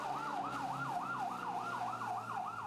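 A Bureau of Fire Protection fire truck siren wails in a fast, even up-and-down cycle while responding to a night fire at an elementary school in Malabon, steady and moderately distant.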